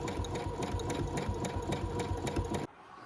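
A Brother embroidery sewing machine stitching with a double needle runs in a steady, fast rhythmic clatter of even needle strokes, close and loud, stopping abruptly near the end.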